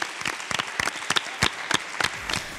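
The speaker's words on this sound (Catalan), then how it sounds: "Un fort aplaudiment." A studio audience of a Catalan school quiz show gives brief, uneven applause, with loose, distinct claps in short bursts.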